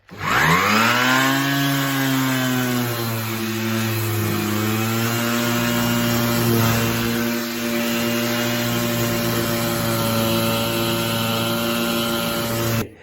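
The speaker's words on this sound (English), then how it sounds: "Now we're going to hit that with a little bit of sanding" A power tool whines steadily and loudly, its motor pitch dropping as it bears down, a continuous electric drone of sanding the wood of a 100-year-old school desk.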